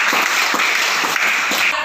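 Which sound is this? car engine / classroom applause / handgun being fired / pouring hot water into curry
classroom applause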